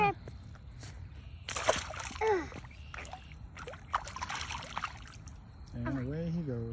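A largemouth bass is let go into the water from a boat, making a few close splashes and sloshes while a child and an adult talk over them, ending with a higher-pitched voice.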